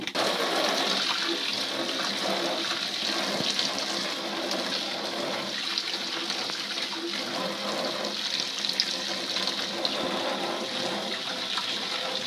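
An RV toilet flushes a tank treatment down into the gray tank, giving a steady, loud rush of water that runs unbroken for the whole stretch.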